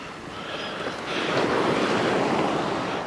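Sea waves surge onto a stony beach at Blue Anchor, West Somerset, during January floods, a loud continuous rushing roar with wind noise, swelling stronger after the first second and holding steady, no voices.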